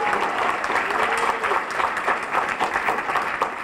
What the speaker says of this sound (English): Y'all can clap better than that.